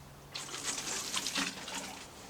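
Water poured gently from a watering can onto freshly sown herb seeds tamped into compost, a soft steady trickle and patter that starts abruptly and continues close by without pause.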